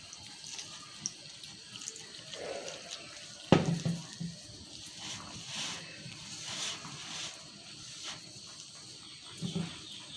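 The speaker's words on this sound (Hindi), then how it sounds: "मैं इसको थोड़ा थोड़ा पानी डाल के गूंदूंगी" Tap water runs and splashes in short bursts as it is poured a little at a time into flour for kneading chicken kachori dough, with soft handling noises in between.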